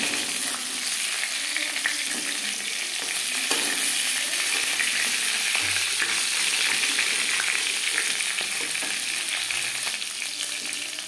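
Katla fish sizzling as it fries in hot oil in a pan, a steady crackling hiss with occasional spatula scrapes and stirs, close and continuous without any talk.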